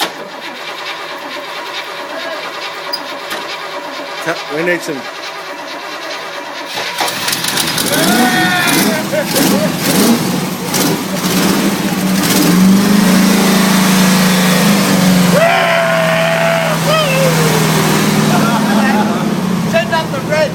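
A 1968 Chevrolet Impala engine cranks and catches, then revs up and down loudly toward 2,000 rpm with a rough idle between, while people talk over it.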